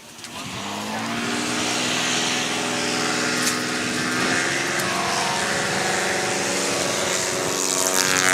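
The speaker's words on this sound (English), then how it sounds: "That was a fantastic takeoff." A propeller-driven STOL aircraft roars on its takeoff run at a competition, a loud sustained engine drone that rises in pitch and holds steady throughout.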